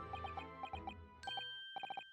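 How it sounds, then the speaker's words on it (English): Chiming bell-like jingles from the video game The Great Ace Attorney Chronicles ring in quick repeated groups of two to four bright tones. The chimes are faint and separated by short gaps, with no talking. "Oh, bells, bells."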